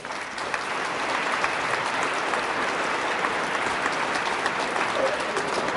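Warm, steady applause from an audience at a Kentucky Gifted Education Month ceremony, a dense even wash of clapping that holds at full strength throughout.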